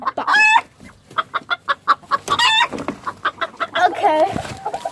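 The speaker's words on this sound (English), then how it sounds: "Well, I got the chicken." A chicken clucks repeatedly and loudly at close range, with rhythmic short clucks and a few longer squawks.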